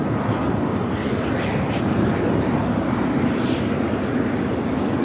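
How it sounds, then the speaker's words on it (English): A Gulfstream business jet passes at Los Angeles International Airport, its steady broadband roar holding loud and even throughout with no talk over it. "That was Vista America heading to Mountain View, which is outside of San Francisco, that Gulfstream."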